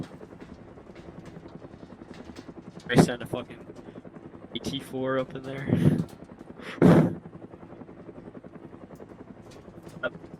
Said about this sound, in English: you hear that chopper taking off?